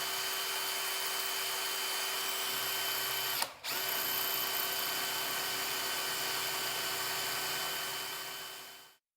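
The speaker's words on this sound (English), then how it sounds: "So let's drill out the hole for the other mudguard." A high-pitched power drill whines steadily up close while boring a hole in aluminium, dipping briefly mid-way before resuming and winding down at the end.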